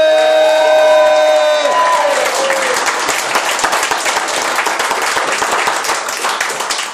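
A live audience at a football club fan-night talk show applauds and cheers warmly, sustained loud clapping with whoops, while a fading musical tone is heard underneath at the start.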